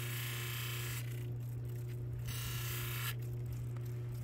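Cab King opal cabbing machine running with a loud steady motor hum as opal is ground on the wheel, with harsher grinding hiss coming and going in short stretches.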